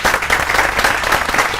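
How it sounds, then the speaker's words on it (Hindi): Applause from a group of students during a value education class, steady and dense clapping filling the short span at close range, with little pause. "तालियां बजाओ"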